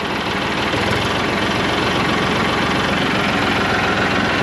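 A tractor engine runs loud and close with a steady low chugging idle that holds throughout, rough and vibrating with no clear rise in revs and no voices.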